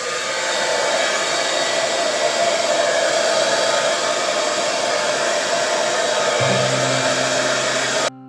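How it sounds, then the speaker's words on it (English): A hair dryer blowing continuously at close range over wet acrylic paint on a canvas, a steady whirring roar with a high motor whine, cutting off abruptly at the end. "using a hairdryer to blow out the base"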